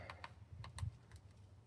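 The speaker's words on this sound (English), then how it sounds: "I'm going to use my little keyboard here." Light, quick keystrokes tapping on a small keyboard, a handful of soft clicks in an uneven rhythm, close and quiet, typing on an Android Auto tablet head unit.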